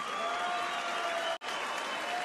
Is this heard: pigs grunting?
no